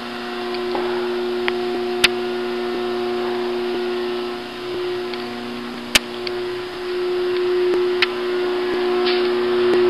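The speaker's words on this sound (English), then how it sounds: "That noise you're hearing in the background is our phase converter." A three-phase converter hums continuously in a restaurant equipment shop, a steady, droning tone with occasional faint clicks and ticks over it and no speech.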